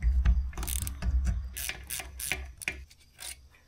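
A hand ratchet working the differential carrier pin bolt on a Squarebody street truck during a 3.73 gear and posi swap, giving quick close clicking strokes and metallic scraping, loud at first and tapering off.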